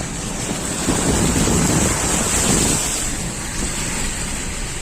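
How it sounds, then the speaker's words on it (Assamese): Floodwater pouring across a road in Dibrugarh, a broad rushing wash mixed with wind buffeting the microphone, swelling briefly louder in the middle before settling back to a steady roar; no one speaks. "বানপানী বানপানী হৈছে পুৰা ৰাস্তাৰ ওপৰেদি পানী।"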